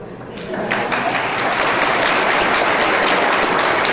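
Scattered then building applause from a seminar audience, a few hands at first swelling into steady, fairly loud clapping that fills the room for several seconds.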